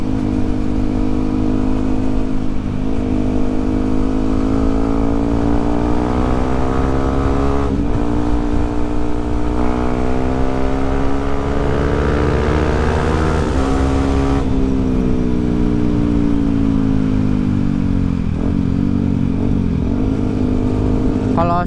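A motorcycle with a loud, deep, drilled-out Kyle XBF aftermarket exhaust hums steadily while riding at night, rising in pitch as it accelerates and easing back off.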